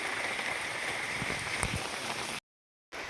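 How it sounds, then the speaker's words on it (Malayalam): Heavy rain pours down in a steady, fairly faint hiss of patter, breaking off abruptly for a moment near the end before resuming. "നല്ല മഴ കേട്ടോ"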